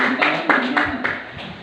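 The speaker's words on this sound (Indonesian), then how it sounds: "tepuk tangan" A group in a classroom claps hands in several distinct bursts roughly every third of a second, with voices audible underneath.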